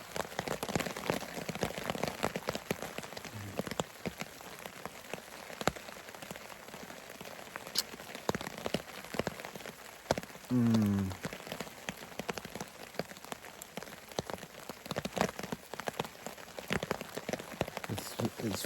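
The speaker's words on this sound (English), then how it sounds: "It's raining." Rain patters steadily on a camping tent, a dense close hiss of drops that continues throughout with occasional soft movement and a brief low voice or animal sound midway.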